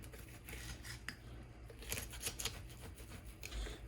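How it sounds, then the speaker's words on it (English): A sharp knife cutting and sawing through the joint of a whole raw chicken, giving quiet close scraping and crunching strokes with soft clicks against the bone, faint and without talk. "when you get in there, you're going to find the joint and you cut through the joint."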